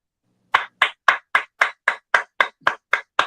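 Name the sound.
round of applause, clapping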